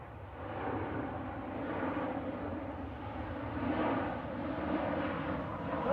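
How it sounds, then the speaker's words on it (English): A Norwegian Boeing 737-800 airliner arriving at Manchester Airport, with a steady, broad engine roar that swells and recedes slightly over several seconds and has no talk over it. "Norwegian with the Max Manus livery is coming in from Oslo. 737-800 LN NIQ is 12 years old"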